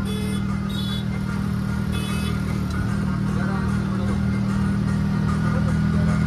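A steady, loud drone from an auto rickshaw engine travelling along a road near Nashik Road, constant throughout with rumbling road noise and no pause.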